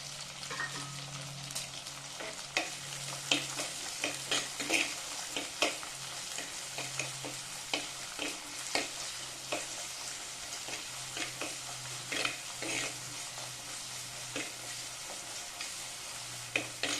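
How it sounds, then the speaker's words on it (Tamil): Small shallots sauté in a pan with a continuous soft sizzle and frequent spatula scrapes and taps, close and steady with no voices. "ஒரு 15 சின்ன வெங்காயம் நான் கட் பண்ணி வச்சுருக்கேன். இதையும் போட்டு நல்லா வதக்கணும்."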